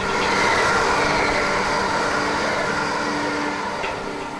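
A train rumbles steadily along the railway beside a Troon golf links course, a loud continuous roar with faint squeals that eases slightly toward the end.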